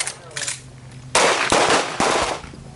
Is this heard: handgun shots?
yes